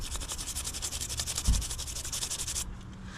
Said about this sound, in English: This is the old sprocket. I'll give it a quick little scrub